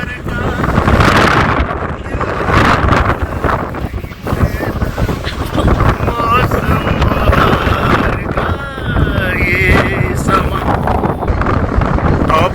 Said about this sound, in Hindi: ये स्टॉर्म है। स्टॉर्म के अंदर हम क्लिफ वॉक कर रहे हैं।